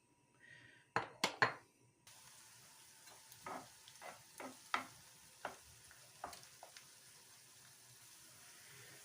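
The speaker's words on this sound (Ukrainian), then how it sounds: "я зараз зроблю пережарочку з цибульки і морковки" Onions and carrots fry quietly in oil, with a soft crackle broken by scattered pops and light utensil clinks.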